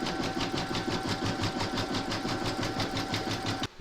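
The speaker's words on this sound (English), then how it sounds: "you're going to stitch round number 1, and that's going to give you a placement outline for your vinyl" An embroidery machine stitches a placement outline in a steady, rapid mechanical rhythm, close and continuous, then stops abruptly near the end.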